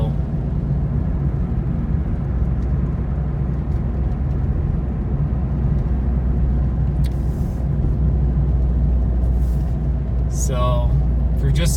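Car driving west on US Highway 50 through a Colorado canyon between Canyon City and Texas Creek, a steady close engine and road rumble running the whole way, with brief higher swishes near the end and a voice talking over it.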